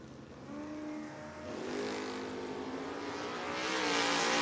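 Drag race cars at a Friday bracket race event, a Mustang against a Nova, roar down the strip with layered engine drones rising in pitch as they accelerate, steady and fairly distant, with no talking.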